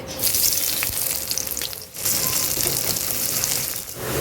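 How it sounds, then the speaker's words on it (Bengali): Onion sizzling in hot mustard oil in a wok, a loud, steady hiss and crackle with a brief dip midway before the frying noise surges back. "এবার এই তেলের মধ্যে দিয়ে দিচ্ছি পেঁয়াজ।"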